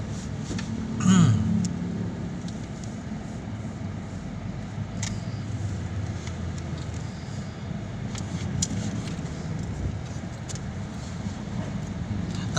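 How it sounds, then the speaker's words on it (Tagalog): Road traffic on Molino Road, a steady low rumble of passing cars and vehicles heard from inside a moving school shuttle, with one louder swell near the start and a constant engine drone throughout. "Dito lang ang traffic."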